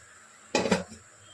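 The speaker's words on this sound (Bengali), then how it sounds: "ঢাকনা এঁটে দিলাম।" A lid clanks onto a hot kadai holding pomfret tandoori set to bake, a short metallic clatter of two or three quick knocks, close and moderately loud, alone with no talk.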